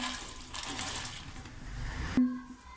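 Whole masoor lentils pour into a pot of water with a steady rushing, pattering sound, ending in a short thud as the last of them drop in.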